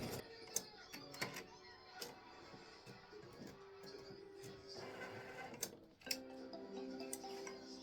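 An embroidery machine stitches baseball-themed tic-tac-toe game pieces, making a quiet, steady run of rapid mechanical ticking and whirring with occasional sharper clicks.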